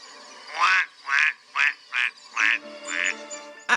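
Drakes quacking in a run of six loud, evenly spaced nasal calls, close and clear, the last one trailing off into a softer, drawn-out note.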